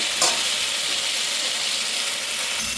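Spice masala paste frying in a pan for paneer curry, a steady close sizzle with a brief stirring scrape near the start, continuous and fairly loud with no talking.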